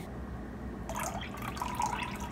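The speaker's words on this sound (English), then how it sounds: "I'm actually going to dump like a 1/2 cup of water on top of this" Warm water, about half a cup, pours onto bread dough ingredients in a bowl, a soft close splashing that rises partway through and continues steadily against a low background rumble.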